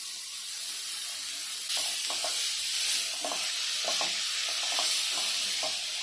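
Fenugreek leaves cooking in a pan with green chillies for methi pitla, giving a steady bright sizzle and hiss with intermittent soft stirring scrapes, close and continuous without talk.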